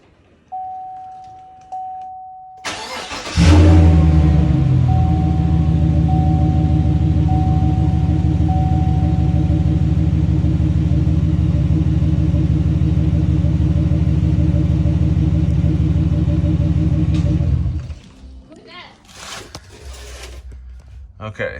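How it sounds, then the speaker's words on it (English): A 2014 Chevrolet Silverado truck engine roars to life with its muffler cut off, running with a raw, heavy rumble for about fifteen seconds before cutting off abruptly. "before we put the exhaust on, we gotta see what it sounds like with the muffler cut off."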